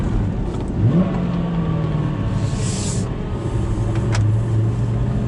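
An Aston Martin V8 Vantage engine, warmed up, drones steadily and rises in pitch as it revs, heard from inside the car with a constant low hum throughout.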